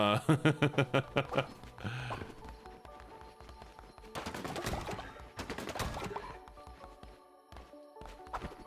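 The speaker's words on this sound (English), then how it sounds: "Birds!" Birds coo in the video game Cult of the Lamb, with a run of soft pulsing calls at the start. Busier game music and effects follow and layer over them.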